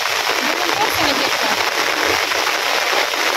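Heavy rain pours down during a flood in Bangladesh, a dense steady hiss of rainfall that continues unbroken with no talk.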